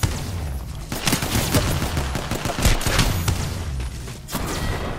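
Rapid, dense gunfire from the Apex Legends video game, loud and continuous with overlapping shots and bursts throughout, no pauses.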